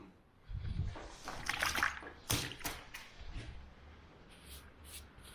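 Water splashes and sloshes as a wet brush scrubs green paint remover off a painted surface, coming in uneven bursts of nearby dabbing and dribbling.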